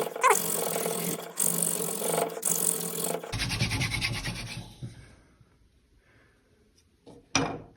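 A bow drill spindle grinds against a cedar hearth board in loud, rapid rasping strokes that stop abruptly, followed by quieter scraping, near silence, and one final brief rub.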